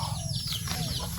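Chickens cluck and chirp over a low, steady background rumble, nearby and moderately loud.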